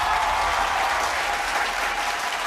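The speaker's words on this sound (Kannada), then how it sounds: "ಚಪ್ಪಾಳೆ" Studio audience at a Kannada TV game show bursts into loud, sustained applause, dense and steady throughout with no talking over it.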